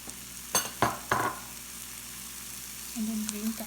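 Green capsicum frying in a pan for a western omelet: a faint, low sizzle broken by three sharp clatters of utensils early on, then a short murmur near the end.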